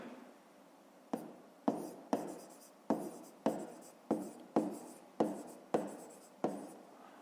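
Pen on paper during a 5th-grade maths exercise, making about eleven evenly spaced, close scratchy strokes, each starting sharply and then fading, with quiet pauses between them.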